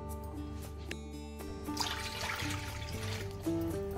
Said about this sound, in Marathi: आता मी इथे 2 कप पाणी घेणार आहे